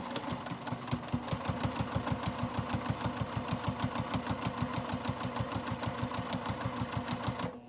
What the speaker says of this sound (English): we're going to take it to the sewing machine and we're going to sew across that top straight edge